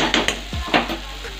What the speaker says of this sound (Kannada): ಇದು ಎಣ್ಣೆಯಲ್ಲಿ ಫ್ರೈ ಆಗಿದೆ